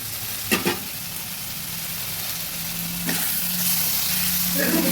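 Tomato and fried katla fish curry is stirred in a pan, a continuous sizzle with a couple of sharp scraping knocks of the spoon near the start and again midway.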